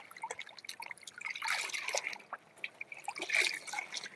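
Garden vegetables, including shishito peppers, sugar snap peas and a tomato, rinsed under running water, a faint uneven trickle with splashes and drips that swell briefly twice.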